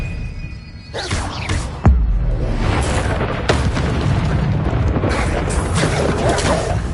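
Spell effects in Hogwarts Legacy burst out in booming blasts and whooshes, with one heavy impact near the start followed by dense, continuous magical crackle and rumble.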